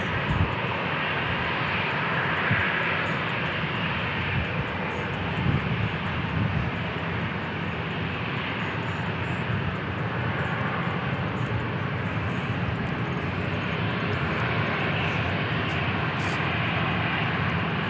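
An Airbus A321 airliner at San Diego International Airport gives a steady, broad engine roar that holds at a fairly even level for the whole stretch, heard from a moderate distance.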